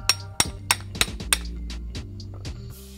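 A hammer taps a star nut setting tool down into the fork of a custom Polygon Trid dirt jump bike, about five sharp metallic knocks with a short ring after each, close up and without speech.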